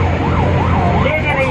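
An ambulance siren wails nearby, its pitch sweeping up and down in a loud, rapid repeating cycle over the low hum of road traffic.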